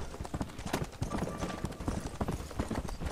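A horse's hooves clip-clop in a steady trotting rhythm in the video game Red Dead Redemption, moderately quiet and close, with no speech.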